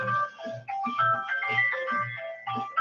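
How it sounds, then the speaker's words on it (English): A cell phone alarm rings on its own, a looping electronic melody of bright tonal chimes repeating in short phrases, nearby and steady. "that's my alarm, cell phone alarm to wake me up."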